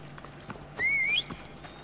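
A horse in the video game Assassin's Creed Odyssey arrives with faint hoof clip-clops and a brief, bright rising whistle-like call in the middle, over a low, steady game background.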